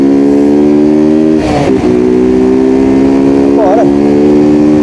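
Honda Titan 150 motorcycle ridden at night along an avenue, its engine droning loud and steady close up with a smooth hum, brief bumps of noise partway through.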